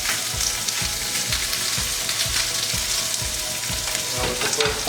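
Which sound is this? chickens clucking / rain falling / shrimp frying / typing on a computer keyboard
shrimp frying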